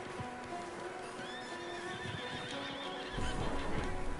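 Horses in Red Dead Redemption 2 whinny with high wavering calls over a steady ambient bed, and a louder clattering burst comes near the end.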